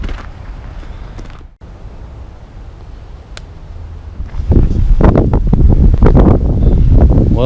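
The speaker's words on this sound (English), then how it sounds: "the wind would pick up, and it's really starting to pick up now" Strong wind blows along a walking trail and buffets the microphone, a steady rushing that swells into loud gusting blasts in the second half, with no talking.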